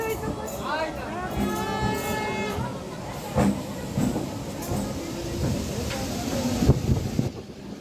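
Passenger train ride with rumbling carriage noise and hissing; a voice talks over it, and a voice briefly chimes in.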